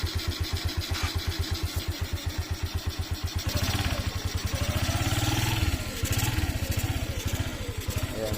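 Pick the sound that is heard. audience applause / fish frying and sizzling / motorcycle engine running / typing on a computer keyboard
motorcycle engine running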